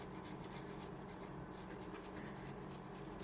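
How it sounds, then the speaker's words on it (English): Fresh Parmesan cheese is grated over an egg dish as a continuous scratchy rasping, steady and close, with no speech. "So I'm just going to grate some Parmesan cheese over it."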